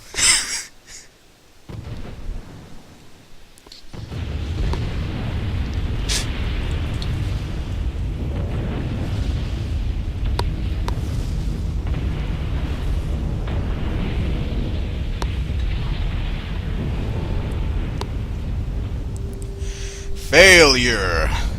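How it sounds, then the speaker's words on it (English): Rumbling explosion of an enemy railgun being destroyed in the flight combat game Ace Combat 6, a sustained low roar lasting many seconds with sharper bursts at the start and end, and a voice talking over it. "We just blew up their railgun."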